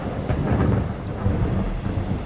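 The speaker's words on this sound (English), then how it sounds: "So, the rain starts to hit." Steady rain pours down with low rumbling thunder rolling underneath, a dense, loud storm wash with no voices.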